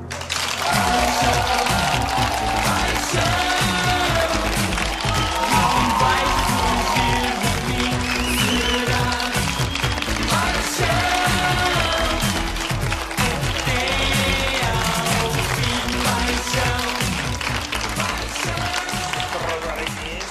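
A studio audience on the Portuguese late-night TV show 5 Para a Meia-Noite applauds to welcome José Paixão, creator of the Arrebita Porto project. Loud applause runs unbroken for about twenty seconds, mixed with music or voices underneath.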